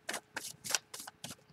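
Tarot cards being shuffled by hand in five quick, papery bursts of riffling and sliding, each separated by a brief pause, close and fairly clear with no talking.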